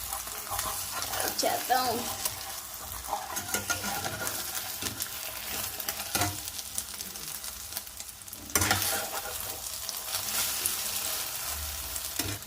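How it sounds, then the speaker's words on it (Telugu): An omelette fries in oil in a wok, sizzling steadily and close up with some stirring and scraping, while a voice talks briefly over it. "ఆమ్లెట్ చేయడం అయిపోయింది"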